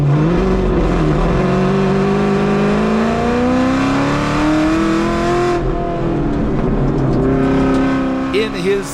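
Chevrolet Camaro race car at the Pikes Peak hill climb, its engine cold and running poorly, revs loud and close, the pitch climbing, dipping and climbing again through the gears before a brief sputter at the end.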